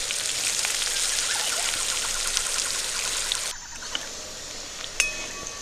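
Chopped onions sizzling in hot oil in a pan for a Bengali shrimp and taro-stolon dish, a steady close crackle and hiss that drops to softer pops partway through.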